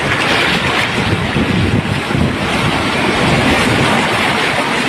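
Floodwater rushing through a river in Narmana, Jamnagar, after torrential rain, a loud, dense, continuous roar with wind buffeting the microphone and no voices.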